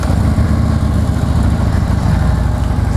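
Harley-Davidson Street Glide FLHX motorcycle with factory exhausts idling steadily, a continuous, fairly quiet low rumble heard up close with no speech.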